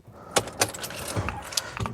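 Keys jangling at a motorhome, several close metallic jingles and shakes in quick bursts over about two seconds, with no talking.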